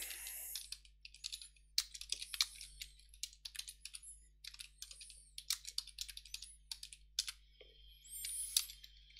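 Someone types on a computer keyboard, faint, quick bursts of clicking keys in an irregular rhythm, with brief gaps between runs and a low background hum.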